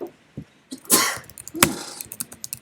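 A close, sharp sneeze bursts out, followed by a second forceful sneeze, with small breaths and clicks around them.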